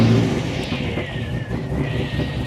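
A car engine fired up and idling with a low, steady rumble, rising slightly in a rev near the end, close and loud with no talk over it.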